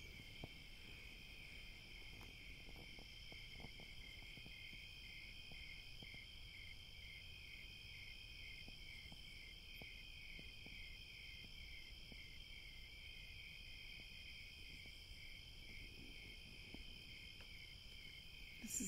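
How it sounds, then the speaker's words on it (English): Crickets chirp at night in a quiet outdoor setting, a continuous high-pitched pulsing trill from many insects holding steady and faint throughout, with no voices. "This is a time of year when the crickets chirp."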